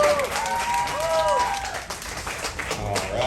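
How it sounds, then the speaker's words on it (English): An outdoor audience at an alligator rescue show at Everglades Holiday Park clapping in a loose, sustained round of applause, mixed with people talking over it. "Sometimes people clap or something."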